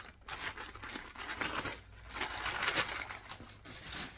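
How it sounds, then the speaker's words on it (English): Paper rustles and crinkles while clothing from a delivery box is handled, a faint, continuous scratchy crackle with small swells and sharper crinkles throughout. "Sorry for the paper rustling here."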